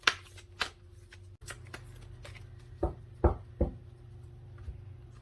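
Tarot cards being shuffled by hand, soft riffling and a few sharp taps and slaps as the deck is squared, close and quiet with pauses between.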